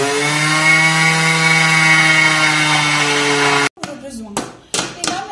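A Thermomix kitchen robot grinds sugar into icing sugar, giving a loud, steady high-pitched motor whine for several seconds that then cuts off abruptly, followed by a few brief clattering knocks.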